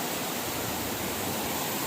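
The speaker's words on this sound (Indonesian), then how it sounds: "Sungai yang begitu deras" Fast, heavy river water rushing steadily and loudly in a broad, constant roar, with no pauses or voices.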